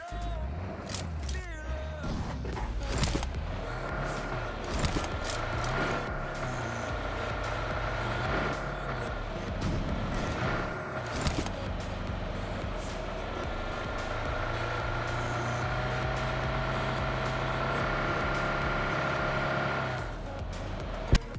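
A steady vehicle engine drones throughout with rumbling low end and occasional clunks and bumps, a car being driven in the video game BGMI.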